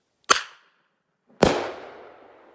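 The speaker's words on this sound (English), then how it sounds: "That's a 12 gauge up in the air." Two sharp, loud blasts from a 12-gauge shotgun fired into the air at an outdoor campsite, about a second apart, each dying away in a long echoing tail.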